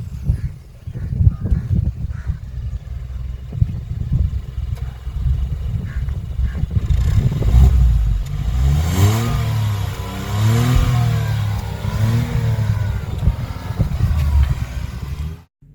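A Hyundai Venue 1.0 turbo petrol engine with a DCT gearbox idles with a low, close throb, then revs repeatedly, its pitch rising and falling in several swells before it cuts off abruptly.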